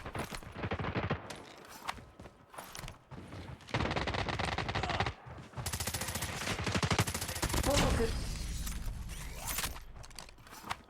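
MAC-10 submachine gun fire in a video game, with several bursts of rapid automatic shots separated by short pauses. Other game effects sit underneath.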